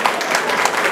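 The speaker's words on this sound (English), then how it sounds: "Give him a round of applause," A brief, dense burst of audience clapping fills the hall at a Yoruba community union's launching and inauguration ceremony in Aachen, Germany, close and loud.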